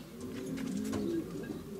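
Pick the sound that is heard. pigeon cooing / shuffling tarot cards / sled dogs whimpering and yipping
pigeon cooing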